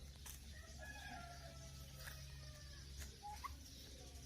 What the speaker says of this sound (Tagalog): mapapansin ninyo na may mga manok din sa paligid